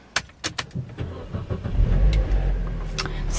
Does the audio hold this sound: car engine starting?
yes